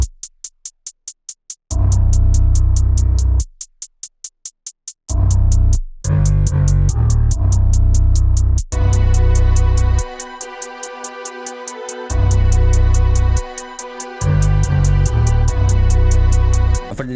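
UK drill beat built with crisp, rapid hi-hat rolls and deep sliding 808 bass, starting and stopping in loud sections, with the hi-hats sometimes playing alone between heavy bass hits.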